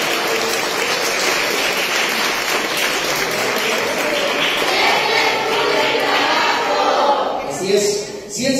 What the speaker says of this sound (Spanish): nuevamente un fuerte aplauso a todos los participantes